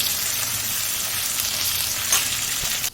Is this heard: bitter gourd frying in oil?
yes